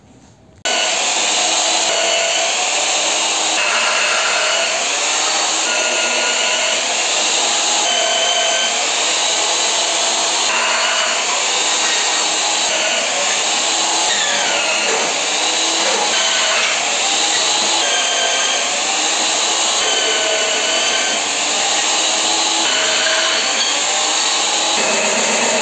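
A power drill bores into welded metal on a half-tractor build, a steady, loud, close high whine that holds almost unbroken after a brief start, with small shifts in pitch as the bit works through.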